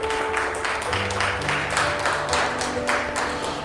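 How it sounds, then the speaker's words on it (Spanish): A church congregation claps their hands together in a steady, rhythmic beat, with sustained musical tones running underneath. "Dale palmas al Señor."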